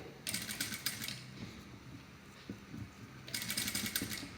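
Sewing machine stitching a high neck blouse, running in two quiet bursts of rapid mechanical whirring with a soft lull between them.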